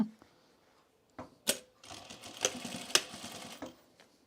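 A sewing machine stitches a dart on a fabric bowl cozy, a short, quiet run of clattering mechanical stitching with a few sharp clicks before it, faint and close.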